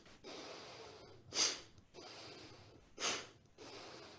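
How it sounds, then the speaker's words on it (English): Forced, sharp nasal exhales in a kundalini yoga breath of fire practice, two loud snorting bursts standing out between steadier rhythmic breathing, close and alone without talk. "Now I'm going to add breath of fire."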